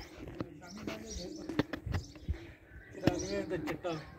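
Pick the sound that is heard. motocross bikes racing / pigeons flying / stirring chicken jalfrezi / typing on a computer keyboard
pigeons flying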